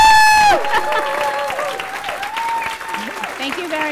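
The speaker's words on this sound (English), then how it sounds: "a round of applause and a standing ovation" Applause and cheering from a standing crowd at a tribute event, with a whistle-like tone at the start, continuing steadily under background voices and sustained tones.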